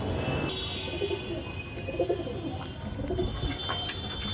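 Pet pigeons coo softly while eating, repeated low throaty coos over a constant background hiss, with a faint high chirp now and then, close and with no voices.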